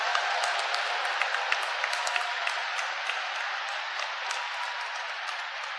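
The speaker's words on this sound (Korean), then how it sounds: "우리 모두 감사의 박수를 올리지 않으시겠습니까" An audience claps together in a large hall at a dedication ceremony for a peace world center, a dense, steady wash of applause that holds for several seconds and fades slightly toward the end.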